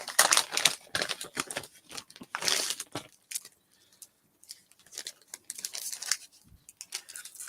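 A package heavily wrapped in tape gets pulled and torn open, with dense crinkling, ripping and scraping in rapid irregular bursts close to the mic and a few brief pauses between.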